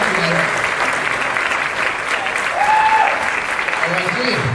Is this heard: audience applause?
yes